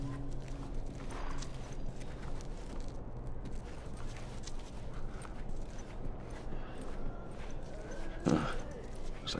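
Horse hooves clip-clopping at a walk in The Last of Us Part II, a steady rhythmic patter of hoofbeats mixed with ambient game noise and a brief snort near the end; people talk at times.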